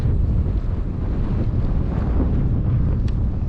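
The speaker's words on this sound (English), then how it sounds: "Heavy crosswind right here" Heavy crosswind blows across a cold lake during late-season fishing, a loud continuous roar buffeting the microphone with no voices.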